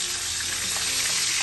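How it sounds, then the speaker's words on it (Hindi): Bay leaf, cardamom, cinnamon and cloves hit hot oil for a prawn malai curry with coconut milk, giving a loud, even, hissing sizzle that holds steady throughout the short moment. "अब इसी तेल में 1 तेजपत्ता, 2 इलायची, छोटी दालचीनी, 4 लौंग दे देना है।"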